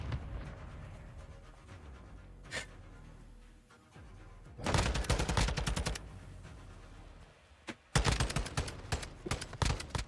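Bursts of rapid gunfire in Call of Duty, a loud volley around the middle and another sharp barrage near the end, with quieter background game noise and a single distant shot between.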